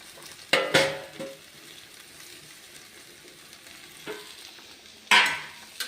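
Chopped radish greens are fried and stirred in a pan for a home-style palya, soft continuous sizzling broken by a few sharp scraping clatters of the spatula against the pan.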